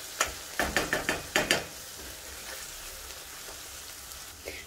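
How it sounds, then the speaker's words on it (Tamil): Garlic being sautéed in a pan for a Tamil-style garlic pickle, a quick burst of sharp stirring clatters up front, then a soft low sizzle continuing quietly. "பூண்டு போட்டு வதக்கிது, இது கொஞ்சம் நல்லா ஒரு 2 மினிட்ஸ் நல்லா வதங்கட்டும்."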